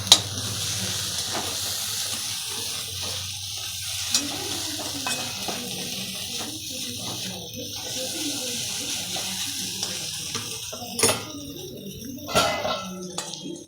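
An egg and carrot mixture with turmeric and salt is stirred and fried in a pan, hissing and sizzling steadily up close, with scraping stirs and a few utensil knocks toward the end.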